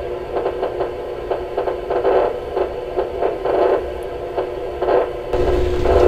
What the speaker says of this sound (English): what you can hear by that increased activity, that sound, is when you stimulate a cell